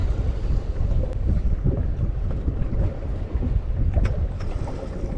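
Wind blows steadily across the open sea aboard a fishing boat out on the turbot grounds off Newhaven, a constant buffeting roar close to the microphone, with water slapping against the hull and no talk.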